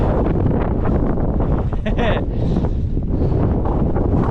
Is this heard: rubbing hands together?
no